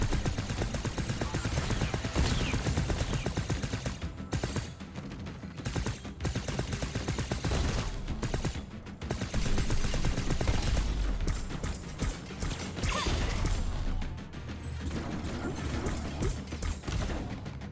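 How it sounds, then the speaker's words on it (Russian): Bursts of rapid machine-gun fire from the video game The Knight Witch rattle in dense volleys with short gaps, loud and close against game sounds. "Ух ты, пулемет."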